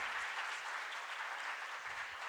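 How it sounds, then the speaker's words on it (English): Audience applause at a national homoeopathic conference in Coimbatore, an even, continuous roar of clapping from a large hall, fairly distant and steady for the whole stretch. "Please give a round of applause to Drs. Vijayakrishna"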